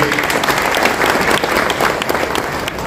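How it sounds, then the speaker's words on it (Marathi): A political birthday gathering's audience breaks into loud, dense applause, close and continuous for the whole stretch, with a faint murmur of the crowd beneath. "त्या बशीरभाई हजवानींसाठी जोरदार टाळ्या होते."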